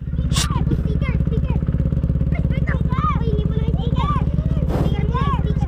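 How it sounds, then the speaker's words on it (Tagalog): A motorcycle engine idles nearby with a steady, pulsing low rumble throughout, while people talk over it. "Kilala nyo pa kaya yung tunog ng motor ko?"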